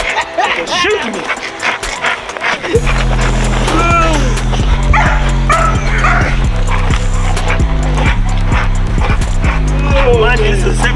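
A 70-pound working dog tugs and thrashes on a spring pole, with a loud, steady rhythmic thumping and creaking under excited barks and yips, while people talk and shout close by.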